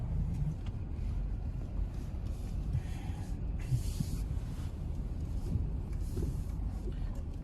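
A car pulling away after parallel parking practice during a driving test, a steady engine and tyre rumble moving off at moderate distance, with wind and outdoor noise around it.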